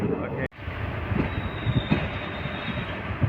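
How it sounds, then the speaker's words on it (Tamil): The Mettur Dam Express rolls into Mecheri Road station on the Salem to Mettur Dam line, a steady close rumble of wheels on rails with a brief thin squeal riding over it. "மேச்சேரி ரோடு அப்படின்ற ஒரு ஸ்டேஷனுக்குள்ள இப்போ நம்ம ட்ரெயின் என்டர் ஆயிருக்குங்க"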